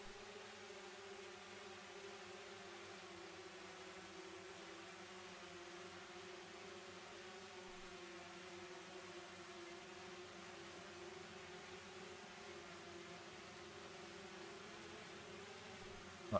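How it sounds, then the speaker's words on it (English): A steady, continuous insect buzz from the Forza Horizon 5 game drones evenly and unchanging for about sixteen seconds with no voices. "I'm just gonna turn down the buzzing because it's pretty fucking annoying."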